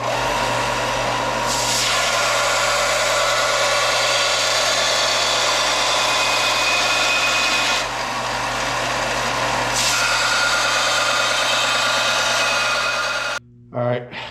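A power tool grinds and rounds off the ends of a metal battery tray, a loud sustained whine with a steady hum, briefly dipping twice before stopping abruptly near the end.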